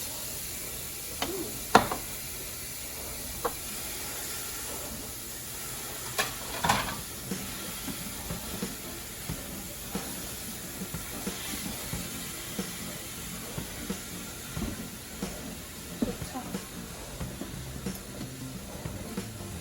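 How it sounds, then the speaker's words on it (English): Ground meat browns on the saute setting in an Instant Pot, giving a steady, faint sizzle and hiss with scattered small pops and clicks throughout. "So that's already on saute. So that should be good and hot already. Dump it in. And we're just going to brown the meat."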